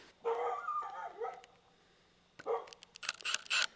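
A dog barks nearby in a couple of sharp bursts, with a pause between them and a quiet background.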